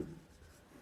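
Chalk or marker writing on a board during a Class 12 physics lesson on total internal reflection, a short scratchy stroke heard alone at a moderate level.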